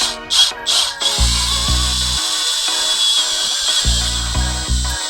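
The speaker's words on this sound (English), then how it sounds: "Now it's time to drill the original rivets out, put the new ones in." A power drill whines in short repeated bursts, starting and stopping as it drills out metal rivets on a Ferrari 812 Superfast, close and loud over a high steady hiss.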